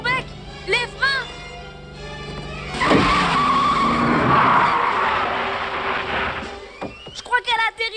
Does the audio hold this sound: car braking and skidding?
yes